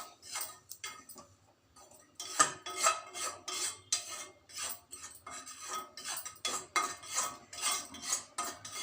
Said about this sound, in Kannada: ಸೊ ಡ್ರೈ ರೋಸ್ಟ್ ಮಾಡಿ